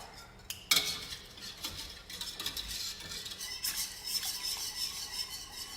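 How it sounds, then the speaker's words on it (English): Gravy is whisked with stock in a pan, giving steady scraping and swishing strokes of a metal whisk against the pan base. The sound is close, continuous and moderately quiet, with no voices. "I want to make sure that it's whisked very well"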